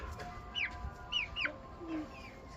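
Free-roaming chickens clucking in a backyard, several short rising clucks and a lower call, fairly close over a steady background hum.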